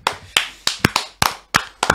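Several sharp hand claps in an irregular rhythm, loud and close, roughly seven distinct smacks over two seconds with no talking.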